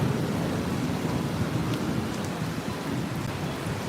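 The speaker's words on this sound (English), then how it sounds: "and the heavy rain's coming." Heavy rain pours steadily with rumbling thunder at Disney's Contemporary Resort overlooking Bay Lake, a dense, continuous outdoor downpour with no voices.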